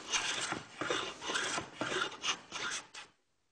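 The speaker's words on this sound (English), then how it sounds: "We've finished doing our planing of the taper there now." A hand plane taking strokes along the taper of a wooden boat mast, about six close rasping shaves in a steady rhythm, then stopping.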